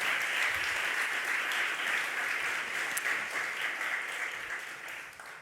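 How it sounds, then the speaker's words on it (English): A room full of people applauds steadily, a dense wash of clapping that holds for several seconds and then begins to fade. "Let's give Bob another round of applause."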